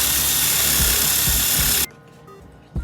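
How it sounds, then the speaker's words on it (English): Power drill boring through a wooden board while making a stick sword, a loud continuous whirring grind that stops abruptly, followed by a short knock. "Then you keep drilling until you finally get a full hole through the board."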